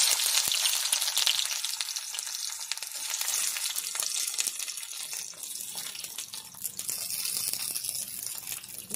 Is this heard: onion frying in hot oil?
yes